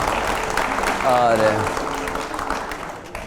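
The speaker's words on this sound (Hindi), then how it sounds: "तालियां हो जाए।" An audience at a political speech gives brief applause beneath a speaker's voice, a diffuse clapping wash mixed with talk.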